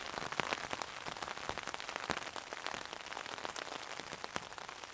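Rain drumming on a tarp shelter at a camp, a dense steady patter of close, crisp drops with no voices, fairly quiet overall.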